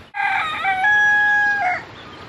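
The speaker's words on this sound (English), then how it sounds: "Thank you, Rooster, for waking me up every morning." A rooster crows once at close range, a loud drawn-out cock-a-doodle-doo lasting over a second, followed by quiet background.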